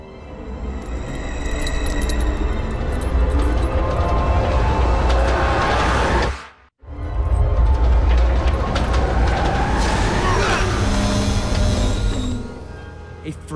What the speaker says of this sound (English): Anybody else wondering why there's a train running down here?